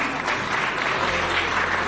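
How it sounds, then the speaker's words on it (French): An audience claps at a community event in Ottawa, a dense, even burst of applause from a crowd that carries on steadily for a couple of seconds. "Sous vos applaudissements,"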